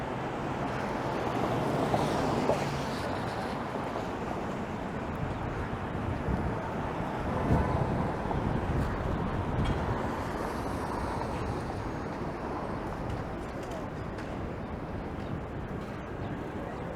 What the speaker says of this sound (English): It is rather windy tonight.